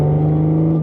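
A supercharged Audi S5 B8.5 with a smaller pulley and new injectors: a steady, sustained mechanical whine with an engine drone under it, held at one pitch for under a second, close and loud.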